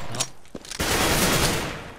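Gunfire in the CS:GO video game on a custom map, a short sharp shot followed by a sustained loud burst of rapid fire lasting over a second.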